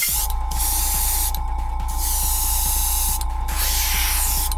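A cheap airbrush hisses steadily, its spray pulsing in bursts over a constant compressor hum and rapid ratcheting clicks, close and loud with no talk.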